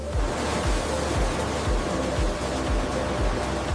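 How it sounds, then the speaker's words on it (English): Pressurized water jets washing popcorn kernels on a factory line, a dense continuous hiss of spraying water with regular low thumping pulses from machinery beneath it. "Pressurized water strikes each kernel,"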